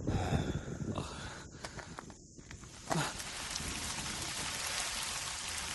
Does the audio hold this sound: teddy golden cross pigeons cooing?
no